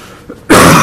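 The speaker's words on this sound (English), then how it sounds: "my apologies for the cough" A single loud, harsh cough at a county board meeting bursts out after a brief quiet moment, close to the microphone, with a faint breath just before it.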